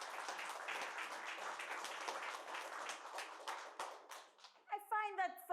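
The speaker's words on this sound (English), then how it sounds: "we could have a bigger round of applause" An audience at a spelling bee competition applauds, a dense, steady clapping that fills about four seconds and then fades. A voice begins speaking as the applause dies away.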